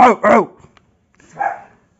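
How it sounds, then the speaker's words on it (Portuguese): A dog barks twice in quick succession close by, followed after a pause by a fainter, softer bark or yip. "o cachorro latindo"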